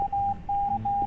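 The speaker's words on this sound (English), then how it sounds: "I'm typing in Morse code." Morse code beeps typed in the Escape the Backrooms video game: a steady high electronic tone keyed in short and long pulses, moderately quiet over a low background rumble.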